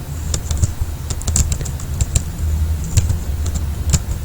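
Someone types code on a computer keyboard, producing quick, irregular clicking keystrokes, close and clear over a faint low background hum.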